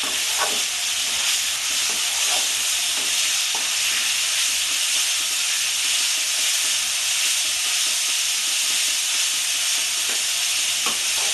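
Ginger, garlic and green chillies frying in a pan for a Bengali jackfruit curry, giving a steady, dense sizzle and hiss throughout with a few faint stirring clicks, no voices.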